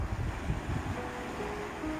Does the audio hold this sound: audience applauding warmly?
no